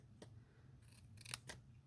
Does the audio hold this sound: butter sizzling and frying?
no